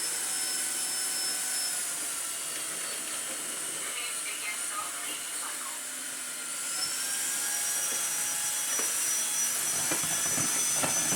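Cordless floor washer, a Vax ONEPWR Glide or Tineco FloorOne S3, whirs with a steady high-pitched motor whine and brush hum, rising slightly in pitch partway through, with faint scrubbing noises over the floor.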